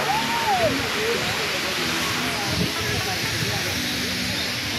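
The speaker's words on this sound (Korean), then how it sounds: "여기도 두 갈래 폭포가 쏟아지죠?" A two-branched waterfall pours down in a steady, broadband rush, continuous and fairly loud throughout, with a child's and adults' voices speaking over it.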